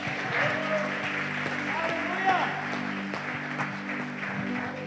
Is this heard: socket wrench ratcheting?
no